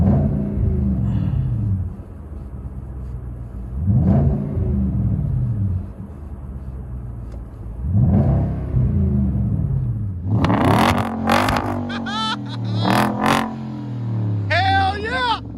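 Hyundai Genesis 4.6L V8 with Magnaflow dual exhaust, recorded from inside the cabin: deep engine rumbles surge in repeated acceleration pulls, then excited voices and cheering overlap the later revs.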